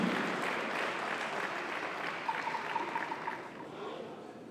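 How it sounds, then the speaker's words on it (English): A crowd at a Ga Mantse Cup launch event applauds King Tackie Teiko II, a continuous wash of clapping heard from some distance, fairly soft and slowly fading. "Shall we do a big round of applause in appreciating him?"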